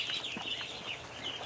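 Small ducks in an indoor pen give soft, repeated quacks and chatters, faint and a little distant, over a steady background hiss, with no talking.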